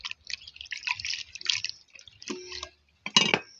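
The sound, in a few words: washing cooking ingredients in water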